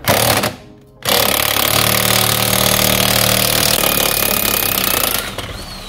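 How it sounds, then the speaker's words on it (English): An impact gun working on a rear suspension bolt of a 2010 Mazda 2 during coil spring replacement, a loud continuous rattling hammer of about four seconds after a short opening burst and brief pause. "impact gun, get the gun on there"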